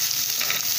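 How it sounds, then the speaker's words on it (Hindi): Roughly chopped onions frying in a pan for shahi paneer give a brief, steady, close sizzle with no talk. "प्याज को मैंने रफली चॉप कर लिया है, इनको बस हमें हल्का सा फ्राई ही करना है।"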